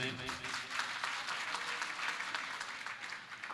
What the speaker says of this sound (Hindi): ये सब बेईमान लोगों ने ताली बजाई है